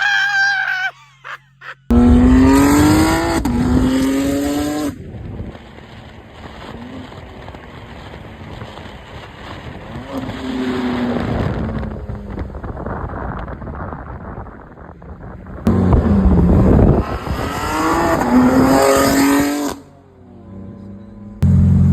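A BMW G80 M3 CS driven at high speed, its engine note rising and falling loudly through gear changes with heavy wind and road roar filling the cabin, and no clear talk over it.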